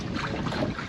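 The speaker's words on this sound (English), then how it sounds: "the wind has got significantly stronger than was predicted" Strong wind buffeting a boat anchored on Lake Macquarie, a loud continuous roar of gusts and microphone wind noise with water sloshing beneath, close and unbroken for the whole moment.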